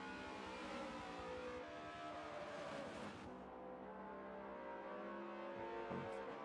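Supercars race cars at The Bend roar steadily as the pack builds speed at a safety car restart, a sustained layered engine drone with a rising whine midway, heard from trackside distance.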